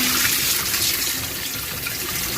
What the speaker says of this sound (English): you're going to add water to it again to rinse it